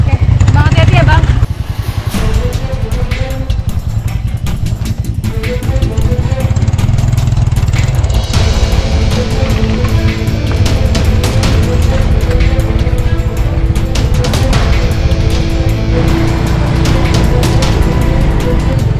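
A motorcycle loaded with heavy sacks of about 40 kilos each climbs a steep road on rural terrain, its engine a loud, close, continuous drone with uneven revving, while people talk over it.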